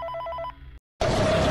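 A telephone in Five Nights at Freddy's 3 gives a short burst of rapid electronic ringing pulses, then cuts to a brief silence before a loud, hissy noisy passage with a faint steady tone.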